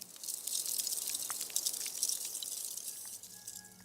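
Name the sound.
field recording of Arctic sea ice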